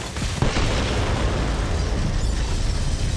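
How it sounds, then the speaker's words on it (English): Core bombs explode in the video game Borderlands 3 with one loud, sustained, rumbling blast that fills the whole clip, a sharp burst near the start followed by a long roaring boom and crackle. "The explosion echoed through the forest"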